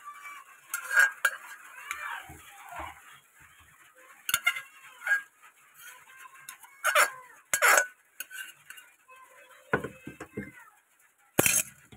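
Vegetables go into a pan for a thick Bengali dal, with scattered clinks and scrapes of a spoon against metal in irregular bursts, some sharp and close, over a quiet background.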